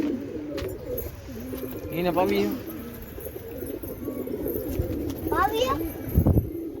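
Pigeons coo softly in a loft or pigeon house, the low burbling calls running under someone speaking, with a few brief higher chirps.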